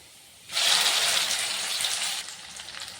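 A garlic spice paste is dropped into hot oil and sizzles at once, a bright hissing crackle that starts suddenly, holds for about two seconds and then settles into a quieter spatter.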